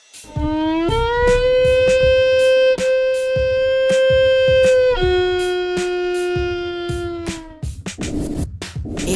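A violin imitates a wolf's howl with long, sustained, sliding bowed tones that rise and fall over several seconds, loud and close, over a regular percussive beat that turns busier at the end.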